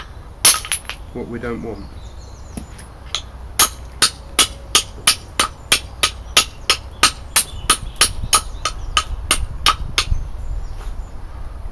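A knife blade being trimmed on a flint anvil, a steady series of around twenty sharp stone-on-stone knaps at a regular rhythm, close and loud, with a few spoken words at the start.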